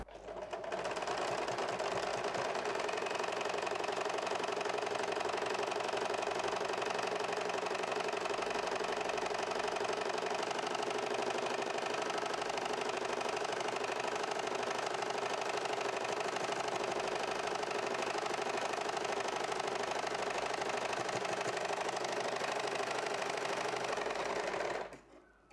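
An overlock sewing machine finishes blouse edges with one long, steady mechanical whir and rapid rhythmic stitching chatter, running continuously at an even speed before stopping at the end, with no talk.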